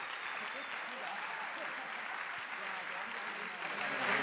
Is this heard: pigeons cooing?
no